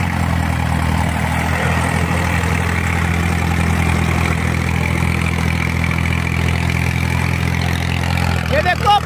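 A 35 HP Farmtrac tractor engine strains heavily and continuously, a deep laboring rumble that holds steady throughout.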